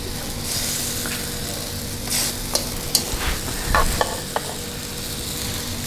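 Mushrooms sizzle steadily in a hot pan while a utensil stirs and scrapes, with a few sharp clinks and louder bursts of frying.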